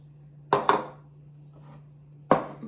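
Butter being mixed in a bowl for an apple cake, a utensil striking the bowl in three sharp clinks, two in quick succession and one after a pause, over a faint steady hum.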